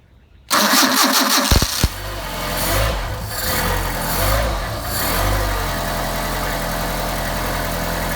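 A Mercedes 190SL engine fed by Solex carburetors cranks briefly and catches, then settles into a loud, steady idle with a slightly wavering rumble, close up and with no talking.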